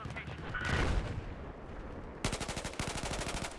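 Gunfire in Battlefield 4 comes in rapid automatic bursts, a rumbling chaotic stretch giving way to a tight, fast string of sharp shots near the end.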